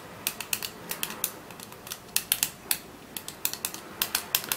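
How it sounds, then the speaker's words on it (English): Buttons on a fidget remote control spinner clicking in quick, irregular bursts, close and crisp with short pauses between groups, no voice over them. "They all click. The middle one doesn't click that loudly, but the others are more louder."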